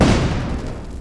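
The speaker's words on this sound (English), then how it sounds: "You hear behind you the scream of the auto guns, and then a huge explosion." Explosion and burst of automatic gunfire as a tabletop RPG sound effect, a loud, dense rumbling blast that stays heavy and sustained through the whole moment before easing slightly.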